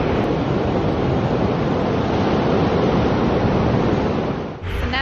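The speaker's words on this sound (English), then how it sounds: "The water breaks so perfectly." Ocean surf breaks on the beach at Newquay, Cornwall, as a loud, continuous rushing wash of waves with steady wind noise, heard alone without voices.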